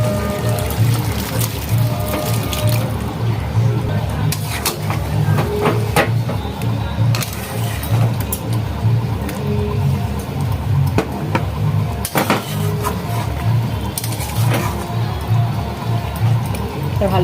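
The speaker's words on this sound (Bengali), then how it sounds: "আলুর সমেত জলটা আমি ঢেলে দেবো।" Hot water with potatoes is poured into a pot of cooking goat mutton for a Holi special curry, a steady continuous pour lasting most of the clip over kitchen background noise.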